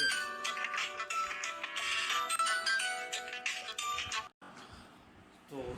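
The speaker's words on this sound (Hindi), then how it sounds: "आपको भी रिंगटोन की एक आवाज़ आई होगी, कॉल आ रहा था" A phone's incoming-call ringtone plays as a bright, busy melodic tone at a moderate level. It runs for about four seconds, breaks off briefly, then comes back more faintly.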